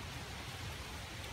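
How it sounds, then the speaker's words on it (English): Rain falls steadily during a thunderstorm in the forest, a faint, even hiss with no voices or distinct thunder. "I feel the rain coming."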